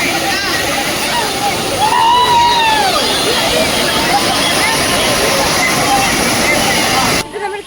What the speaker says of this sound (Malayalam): വെള്ളത്തിൻ്റെ സൗണ്ടും ആൾക്കാരുടെ സൗണ്ടും മൊത്തം ഇളവാ.